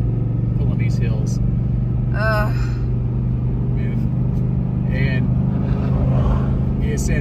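A car engine in second gear drones steadily as it pulls up winding hills in a state park, a constant close rumble under talk from people inside.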